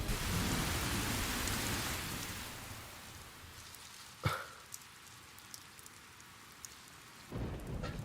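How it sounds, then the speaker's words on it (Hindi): Heavy rain pours indoors through a leaking roof, a loud, steady hiss that thins partway through. A single sharp crack cuts in near the middle before the downpour swells again. "बाहर से ज्यादा बरसात तो यहाँ पर है।"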